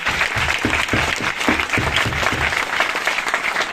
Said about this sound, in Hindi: मेरे ग्रेट अपलाइन आदरणीय हरिओम सर, एक बार उनके नाम पे जोरदार ताली चाहूंगा।